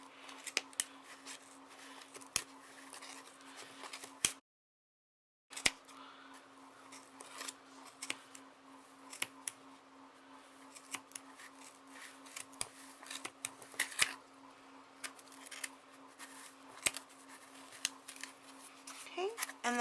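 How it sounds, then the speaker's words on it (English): Scissors trimming the sides of a yarn pom-pom, sharp close snips repeating at an irregular pace, with a quiet steady hum underneath and one brief silent gap early on. "I'm going to take this original piece and just trim it, and then start cutting on the sides here."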